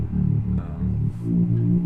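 A thick, gritty Reese bass synth drones with a detuned, wobbling growl, distorted and compressed, sustained alone and slightly shifting in tone partway through.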